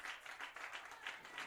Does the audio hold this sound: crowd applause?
yes